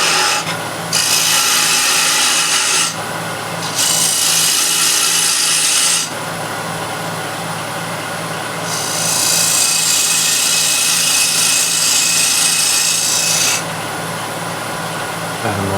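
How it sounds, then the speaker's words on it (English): A hand scraper cuts the inside diameter of a piece of turned wood on a lathe, producing loud rasping scrapes in several long passes over the constant hum of the spinning machine. "Now I'll use square and scraper. Just go straight in."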